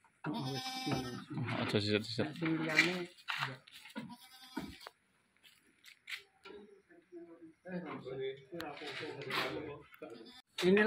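Boer goats at a breeder's farm in Blitar, Indonesia bleat in quick, wavering cries mixed in with people talking nearby, the bleats rising and breaking off between stretches of conversation.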